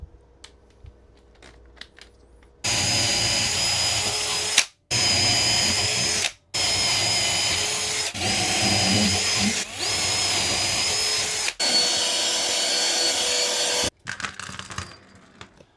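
A power drill bores into wood in several sustained bursts with short pauses between, loud and close, its motor whine steady with a grinding edge.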